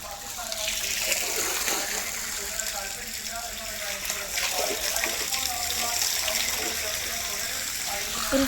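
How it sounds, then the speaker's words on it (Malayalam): Water splashes and runs steadily at moderate loudness, like being poured into a tank after a catfish died, with faint voices underneath. "ഇനി വെള്ളം ഒഴിക്കണം."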